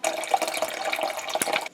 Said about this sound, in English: This is our tap water straight out of the tap.